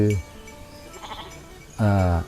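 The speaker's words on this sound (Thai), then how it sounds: "แกะ" Sheep bleat on a sheep farm in Thailand: one loud, close, wavering call is cut off at the start, and a second strong bleat returns near the end after a quieter pause.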